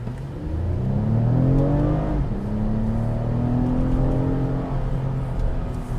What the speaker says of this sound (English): the exhaust I think sounds pretty good